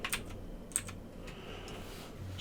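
A computer keyboard is worked with a few scattered hotkey presses while editing in Adobe Premiere Pro, giving faint, close clicks spaced apart over a quiet background with no speech.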